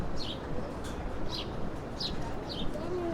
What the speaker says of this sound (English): You can even hear birds on this High Line.